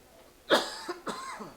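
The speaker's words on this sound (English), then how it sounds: "I beg your pardon, I've caught a coughing fit" A man at a high school baseball game between Jasper and South Spencer coughs, a loud close fit of two or three harsh bursts in quick succession.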